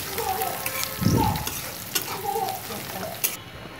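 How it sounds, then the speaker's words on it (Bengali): Whole spices such as cumin and cloves crackle in hot oil, a close, busy sizzle with scraping stirs of a spoon through the pan across the short stretch. "দিয়ে এখন এটাকে আমি একটু সামান্য লাল করে ভেজে নিব।"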